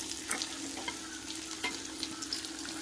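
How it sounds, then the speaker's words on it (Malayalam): Theeyal curry bubbling and sizzling in a pan while being stirred, with soft scraping and small crackles over a steady simmer, close but quiet and without talk. "എന്നിട്ട് നന്നായിട്ട് ഇളക്കി കൊടുക്കാം."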